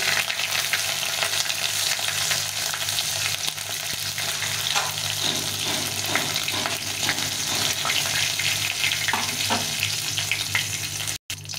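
Dried red chillies, bay leaves, a piece of cinnamon and cardamom pods hitting hot oil, giving a loud, steady close-up sizzle that runs unbroken throughout with faint scraping now and then.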